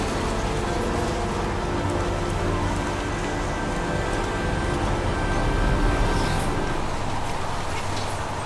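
Heavy rain pours steadily in the Heavy Rain video game, a loud dense wash of noise that continues without a break, with a low rumble underneath.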